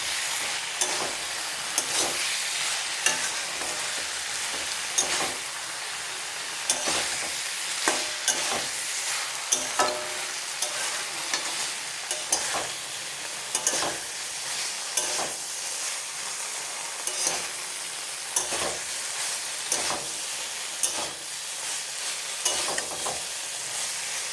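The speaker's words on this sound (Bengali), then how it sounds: "মাখানাগুলো দিয়ে ভালো মতো ফ্রাই করে নেবো আবার।" Makhana (fox nuts) frying in spiced oil, a loud continuous sizzle broken by frequent scraping strokes of a spatula stirring the pan close by.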